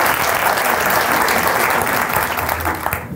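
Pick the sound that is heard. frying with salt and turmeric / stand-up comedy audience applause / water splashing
stand-up comedy audience applause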